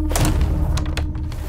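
A carrom striker hitting the coins, a few close, sharp knocks and clicks in quick succession during a carrom game.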